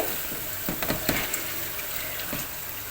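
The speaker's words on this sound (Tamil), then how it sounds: "இஞ்சி பூண்டும் இப்போ நல்லா வதங்கிடுச்சு" Onion, ginger and garlic sautéing for a large batch of chicken biryani, a constant close sizzle broken by a few sharp clacks and scrapes of stirring, with no one talking.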